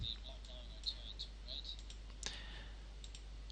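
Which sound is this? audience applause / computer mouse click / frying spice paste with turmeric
computer mouse click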